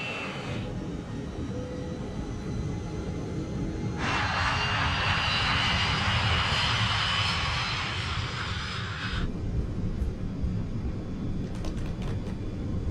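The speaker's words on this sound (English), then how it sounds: "West Caribbean 708, runway 21 left, cleared for takeoff." West Caribbean Flight 708 airliner engines roaring at 1 a.m. on the takeoff roll from runway 21 left at Panama, a steady loud jet drone that swells in the middle and then eases.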